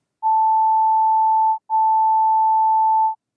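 Two steady pure sine tones at 880 and 885 Hz, nearly identical in pitch, play one after the other, each lasting about one and a half seconds with a brief gap between, clean and alone.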